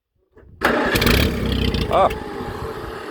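An Allis Chalmers tractor engine is pull-started and catches with a loud rough roar that settles into a steady close running rumble, with someone speaking over it.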